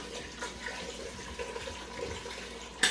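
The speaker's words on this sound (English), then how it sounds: "So I'm adding the water." Water from a kettle pouring into a cooking pot with browned contents for lentils, a steady close splashing gush lasting a few seconds, ending with a brief sharper clink.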